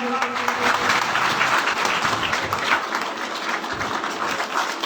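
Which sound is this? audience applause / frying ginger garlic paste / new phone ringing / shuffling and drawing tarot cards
audience applause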